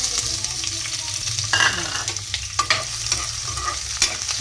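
Onion, garlic and ginger sauté in hot oil for chicken tinola, with loud sizzling and a utensil stirring and scraping the pan in repeated strokes, close by and with no voices.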